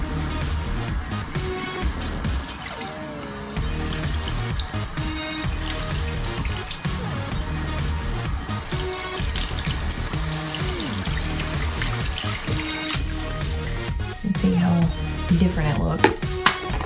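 Lukewarm tap water runs steadily from a faucet into a sink while paint brushes are rinsed and swirled by hand, a continuous close splashing wash with some clatter near the end.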